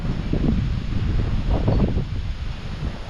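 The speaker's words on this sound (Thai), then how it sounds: "ลม" Wind gusting through a forest with large trees, a loud, rough rushing of air and rustling that swells and eases across the span, with no voices.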